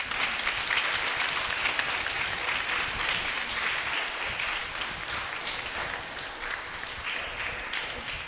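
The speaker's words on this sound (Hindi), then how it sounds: "जोरदार तालियों के साथ हम फादर जी का धन्यवाद करें" A church congregation at St. Mary's Church applauding the Father during a Marian feast and novena service, a sustained round of clapping that starts full and slowly eases off.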